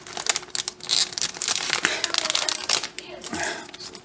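Crinkly plastic packaging being cut open while making western lasagna, with loud crackling, crumpling and tearing close by, mixed with a person talking.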